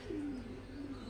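Domestic pigeons cooing softly, one drawn-out low throaty coo rolling over a steady background hum, fairly close and alone without voices.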